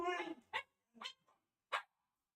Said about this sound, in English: give me 1 second to feed the dogs because they are screaming